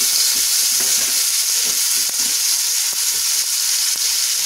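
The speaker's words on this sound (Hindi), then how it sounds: "आलू को मैं एक साइड में कर देती हूँ और एक साइड में मैं टमाटर डाल दूंगी।" Potatoes and tomatoes frying side by side in a pan for a Navratri fast thali, a loud continuous close sizzle with occasional soft stirring knocks.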